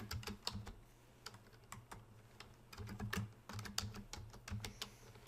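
A name is typed on a computer keyboard during woodworking design software work: quick, irregular bursts of soft key clicks, close and fairly quiet, with brief pauses between runs of keystrokes.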